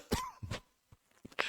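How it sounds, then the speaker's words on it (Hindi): Several sharp, raspy coughs from a teacher during a live physics lesson, close and loud, arriving in irregular bursts with short pauses between them. "थोड़ी खांसी ज्यादा हो रही है."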